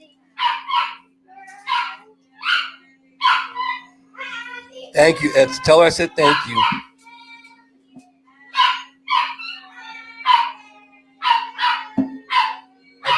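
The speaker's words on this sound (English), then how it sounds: "That's why you hear her barking." A pet dog barks in repeated short bursts, fairly close, while someone sings happy birthday in another room; someone speaks briefly in the middle and a steady low hum runs underneath.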